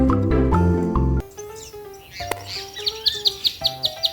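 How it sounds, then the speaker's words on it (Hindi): Bright bird chirps inside a children's song come as a string of about eight short, evenly spaced tweets after a burst of music, cutting clearly through soft background accompaniment. "चुन चुन करती आई चिड़िया, दाल का दाना लाई."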